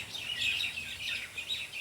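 Birds chirp and twitter outdoors near a rural home with cows nearby, a lively cluster of high calls that rises and falls without pause, moderately close, with no speech.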